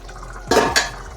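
A metal lid is lifted off a pot of boiling mutton curry with two quick, close clanks, set against a faint background hum.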